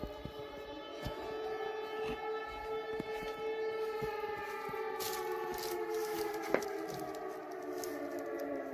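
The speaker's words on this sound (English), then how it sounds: "our third clip here that is now showing us the air raid sirens going off" Air raid sirens wail across a city, a sustained rising and falling tone that stays loud and steady throughout, with a few faint thumps and clicks underneath.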